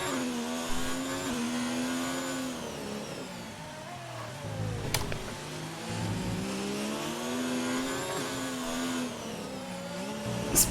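A closely following race car in a racing video game drones and revs behind during a wet race at Hungary, its engine pitch rising and falling steadily and loudly throughout, with no voices.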